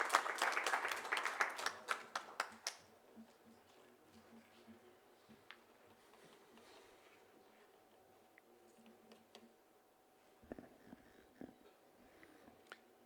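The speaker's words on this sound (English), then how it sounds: "Let us all give a warm round of applause as we invite Mr. Maniewicz to deliver his keynote speech." An audience applauds to welcome a keynote speaker at a formal event, a burst of dense clapping that thins into scattered claps within a few seconds, then a quiet room with faint rustles and ticks.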